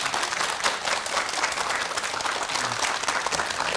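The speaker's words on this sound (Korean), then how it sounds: "강의 박수로 청해 듣겠습니다" A studio audience on a Korean morning TV talk show claps to welcome a lecture, a dense, even round of applause held throughout at full strength with no voices over it.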